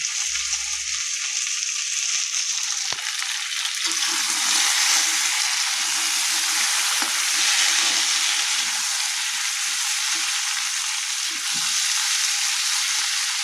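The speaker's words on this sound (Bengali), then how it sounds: "আলুটা ভাজা হচ্ছে" Steady, dense sizzle of potatoes frying in hot oil, continuous and close, with a sharp knock early on and faint clinks underneath.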